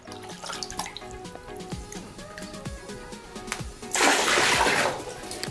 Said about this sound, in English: Now we are taking out the water.